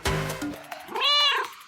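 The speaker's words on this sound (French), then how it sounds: "Ah! C'est le chat!" A cat gives one clear, rising and falling meow, close and loud, just after a short burst of mixed noise at the start.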